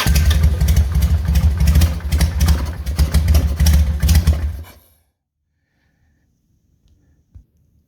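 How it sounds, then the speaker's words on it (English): A Harley motorcycle with a carburetor in need of cleaning cranks over and fires up, running with a loud, rough, clattering rumble for about five seconds before cutting out abruptly into near silence. "And the bike will go ahead and crank over and start."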